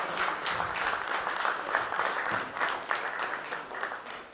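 Audience applause at a procurement leaders summit panel: steady, continuous clapping from a crowd, fairly distant and soft, with no talk over it.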